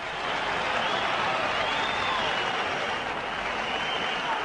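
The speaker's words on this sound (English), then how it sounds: "the Wembley crowd were yelling for him all the way to the ring" A large Wembley boxing crowd roars steadily for Frank Bruno as he walks to the ring, a dense unbroken wall of cheering and yelling that holds constant throughout.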